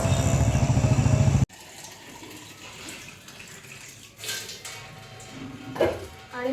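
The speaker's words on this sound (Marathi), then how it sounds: "आणि मस्त आता पाणी आलेलं आहे" Water runs steadily from a household tap into a vessel after the supply comes on. The flow is loud for the first second and a half, then turns into a quieter, uneven trickle and splash that swells again near the end.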